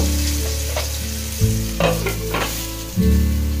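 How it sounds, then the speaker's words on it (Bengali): Eggplant frying in oil in a pan, a steady close sizzle with intermittent stirring scrapes and clatters; no voices. "একটু ভেজে নিচ্ছি। যেহেতু আমি বেগুন দিচ্ছি"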